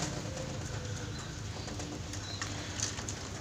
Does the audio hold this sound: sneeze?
no